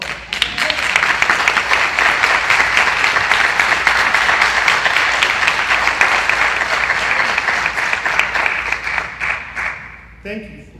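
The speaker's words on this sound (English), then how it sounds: "I think you can give the mayor another round of applause" A high school auditorium crowd at a State of the City address gives the mayor a loud, dense round of applause that holds steady for about nine seconds, then tapers off as a voice begins.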